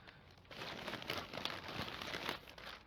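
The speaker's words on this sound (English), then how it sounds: "that paper crumpling around" Close-up paper crumpling and crinkling, irregular bursts of crackly rustling lasting a few seconds with no voices.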